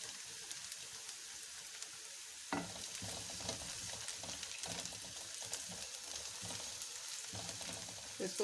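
Steady crackling sizzle of onion and garlic frying in a pan, continuous and close, with a few louder stirring scrapes partway through.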